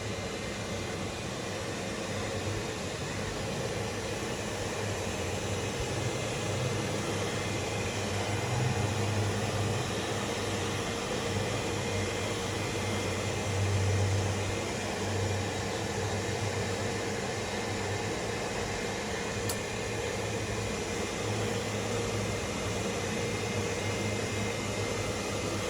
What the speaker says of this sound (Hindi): ड्रायर से मैं सुखा रहा हूँ।